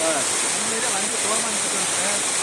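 A waterfall pours from more than 20 feet high, making a dense, constant rushing roar close by, with a voice speaking faintly beneath it.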